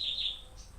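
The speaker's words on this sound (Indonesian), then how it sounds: "Cantik suara burungnya." Short, bright bird chirps, a quick pair of high tweets followed by a fainter call, heard at moderate distance against a quiet background with no talking.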